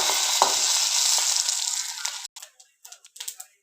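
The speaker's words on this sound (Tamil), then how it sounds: "ஒன்றா சேர்த்தா வறுக்கிறேன், நல்லா வறுத்து எடுத்துக்கலாம்." Whole spices for a mutton curry roasting in hot oil give a steady close sizzle for about two seconds, then it cuts off and leaves a few short scraping and clattering stirs.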